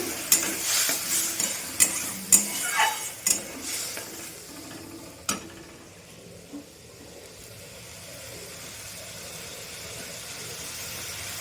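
Ginger-garlic paste and a splash of water hitting a hot pan for an egg curry with eggplant and cauliflower, with loud bursts of sizzling and spatula scrapes at first that settle into a steady, quieter hiss.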